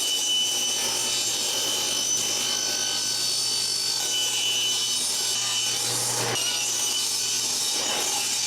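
Wood boards being cut with a saw for a raised planter box, a steady continuous sawing rasp running throughout at close range with no talking.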